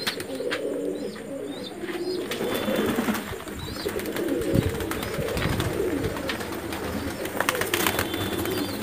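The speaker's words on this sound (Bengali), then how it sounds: "কিছু বাচ্চা বড় পায়রা আছে," Madrasi pigeons of Pulsar breed and Arshad line, young and adult birds, cooing in repeated soft throaty phrases close by, with occasional chirps over a steady background hum.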